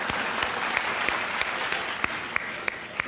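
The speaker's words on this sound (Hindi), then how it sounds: "आप लोग तालियां बजाते हैं" Dense applause from a Hindi poetry gathering audience fills the clip, a steady close wash of many hands with a few sharper claps standing out.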